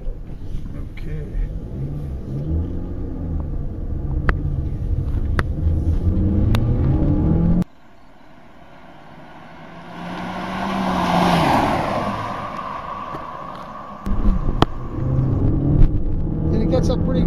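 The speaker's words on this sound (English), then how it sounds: "See if we can do a little bit of a launch here and see if we can pick up some exhaust note." A 2013 Chevrolet Cruze LTZ accelerates from a launch on a test track, its engine and exhaust note rising loudly. After a sudden cut to quieter road noise, the engine rumble returns, with someone talking over parts of it.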